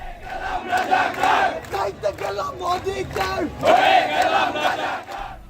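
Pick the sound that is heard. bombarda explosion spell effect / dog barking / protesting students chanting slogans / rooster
protesting students chanting slogans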